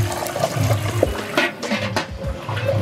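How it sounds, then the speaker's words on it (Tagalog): Water splashed into hot cooking oil in a pan while frying crispy pork head, giving a loud, continuous crackling and sputtering with sharp popping bursts throughout. "Sobrang nukuputok-putok ang ating lutuan dahil sa tubig na nilagay natin."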